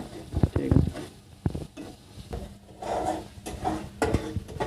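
Onions fry in a pan for a giant freshwater prawn recipe, with a soft sizzle under repeated scraping and stirring strokes of a spatula. Brief knocks break up the stirring.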